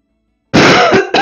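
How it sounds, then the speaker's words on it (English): After a moment of silence, a person gives a loud, close, rasping throat clear and cough in two bursts, the second starting after a short gap. "I have a bit of a cough again."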